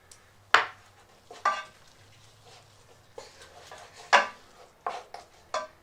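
A spoon stirs crushed garlic and cumin in a cooking pot, giving sparse metallic clinks and scrapes, several distinct knocks spaced irregularly and heard close by with little else around.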